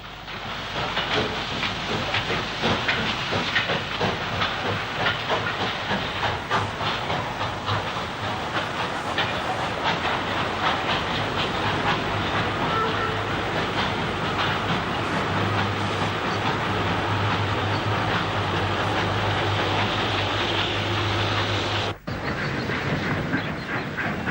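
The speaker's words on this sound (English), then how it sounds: "a BR Standard Class 5 460 is banked by an 8F up the gradient from Rycroft Junction to Lichfield Road Junction on a mixed freight" A BR Standard Class 5 steam locomotive, banked by an 8F, hauls a mixed freight up a gradient, giving a steady heavy roar of exhaust, hiss and rolling wagons that continues loud and unbroken for the whole stretch.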